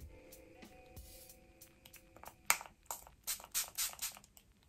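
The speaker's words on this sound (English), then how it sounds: "Wow, that's quite a powerful spritz." A tea tree facial mist bottle sprays straight onto a face: several short, hissing spritzes in a quick cluster near the end, close and fairly quiet, following soft handling noise, with no talking.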